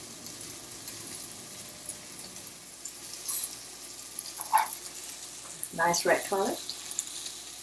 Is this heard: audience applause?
no